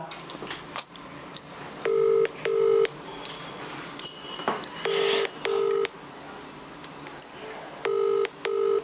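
An outgoing phone call rings unanswered. Paired ringback tones sound three times at steady intervals over a faint background hiss, with no voice answering.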